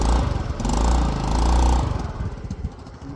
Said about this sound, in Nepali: यस्तो चाहिँ साइलेन्सर हालेपछिको आवाज चाहिँ